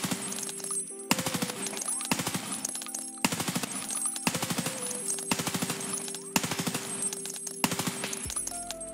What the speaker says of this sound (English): if we shoot just a few rounds at this guy back here, you know, your recoil does that